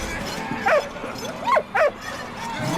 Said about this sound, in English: Medic dog.